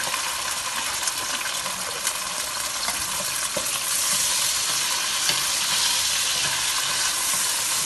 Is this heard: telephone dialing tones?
no